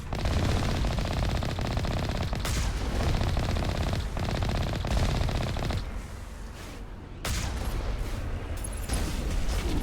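Rapid gunfire in the Mass Effect video game rattles in sustained bursts of automatic shots, loud and close, briefly dropping off before resuming, with no talking over it.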